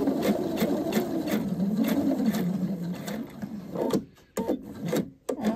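A sewing machine runs steadily, stitching a collar with a zipper, its rapid mechanical chatter continuous for several seconds before slowing and stopping in short bursts as the needle halts.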